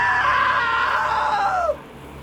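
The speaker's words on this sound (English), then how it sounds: "Now that was a great scream." A long, loud scream from a character in the video game What Remains of Edith Finch, held steady for over a second and a half before its pitch sags and cuts off, followed by quiet.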